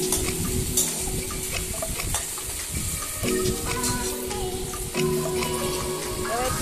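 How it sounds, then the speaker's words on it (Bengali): Tomatoes and turmeric are stirred in a frying pan, the spatula scraping and clattering steadily against the pan over a constant sizzle, with a brief watery splash in between. "এবার ভালো করে আরেকটু ভালো করে নেড়ে নেব, ভালো করে মিশিয়ে নেব।"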